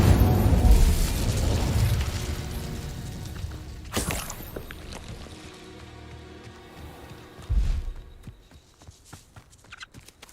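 Incendio fire spells in Hogwarts Legacy burst loudly in a dense opening blast, then a second sharp explosion near the four-second mark and another thud later, each decaying into crackling debris and scattered pops.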